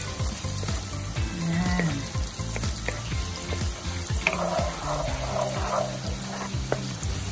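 Garlic frying in oil until brown for kare-kare, a steady crackling sizzle with repeated stirring scrapes and clinks, and a brief spoken word over it.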